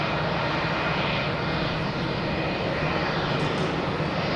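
A Lufthansa jet airliner at Boston Logan Airport produces a steady, loud roar that holds constant throughout, with no voices present.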